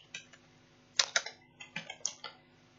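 Faint, quiet typing on a computer keyboard: around a dozen light key clicks in irregular bursts over a few seconds, with no talking.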